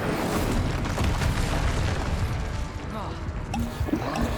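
Incendio fire spell cast in Hogwarts Legacy: a dense roaring, rumbling burst of flame that stays loud and churning for several seconds, with some voice mixed in.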